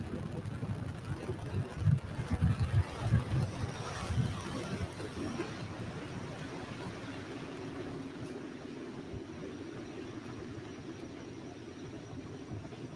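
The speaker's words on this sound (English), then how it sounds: "we are throttling down the engines on the first Power stage" SpaceX rocket engines roar steadily during the Fram2 launch ascent as the first stage pitches downrange. The sound is a broad, distant rumble with stronger low pulses early on, then an even, fading wash.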